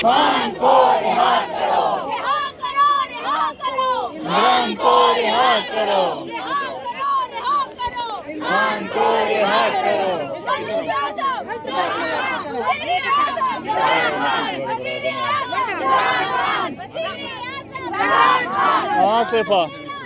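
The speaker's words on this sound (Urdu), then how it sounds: "کارکن نعرے لگا رہے تھے" A large crowd of party workers shouts rhythmic political slogans in unison, voices overlapping loudly and continuously, with chatter mixed in.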